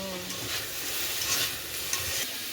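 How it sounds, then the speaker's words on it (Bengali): Steady sizzling of drumstick flowers frying in a pan, with faint stirring scrapes throughout, close and continuous, no voices. "গাছেরই ফুল ভাজা হচ্ছে।"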